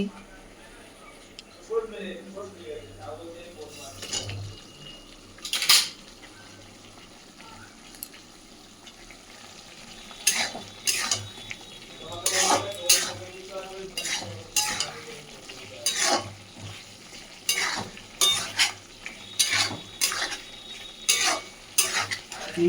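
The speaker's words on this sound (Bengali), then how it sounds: "এখন ভেজে রাখা আলুটা দিয়ে দিচ্ছি।" Fried potatoes go into a pan for aloo dum and are stirred, giving a low sizzle broken by sharp clinks and scrapes of a utensil against the pan, the stirring growing busier in the second half.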